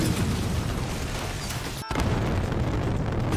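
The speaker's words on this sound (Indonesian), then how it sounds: "Ledakan terjadi." A dense, loud roar of blast noise fills the clip, broken by a split-second gap before the rumbling continues.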